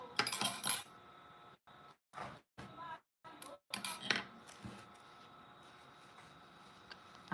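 Scissors snip off the yarn ends of a crochet beanie in a run of quiet close clicks and short cuts, separated by brief silences, with faint talk in the background.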